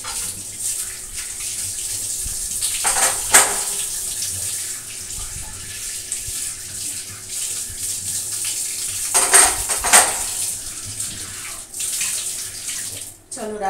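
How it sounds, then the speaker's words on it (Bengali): Gas stove burner grates are washed with running water in a home kitchen, with splashing and a steady flow broken by two bursts of metal clatter as the grates knock together. "এখন গ্যাসের ঝিকগুলো দিয়ে দিই ধুয়ে দিয়ে।"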